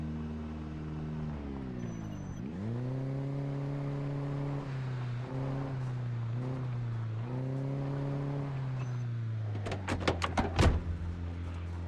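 A video game car with a muffler reverses loudly, its engine droning with pitch rising and falling through several revs, followed near the end by a short burst of sharp clattering bangs.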